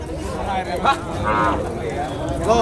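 Cattle at the Vaniyambadi cattle market moo in several drawn-out calls spread through the stretch, standing out over a steady crowd murmur and people talking nearby.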